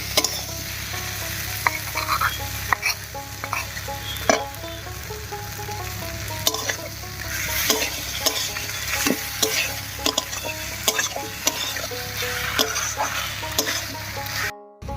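Pumpkin pieces frying with ground spice paste in a pan, a close continuous sizzle broken by repeated sharp scraping and knocking of a spatula stirring the mixture.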